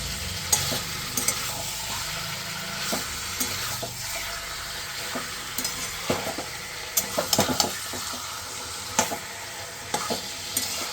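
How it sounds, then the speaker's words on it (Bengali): Chicken slowly fried and stirred in a pan, a steady sizzle with intermittent scraping and clacking of the spoon against the metal, close and continuous without speech. "চিকেনটা ধীরে ধীরে কষা হবে"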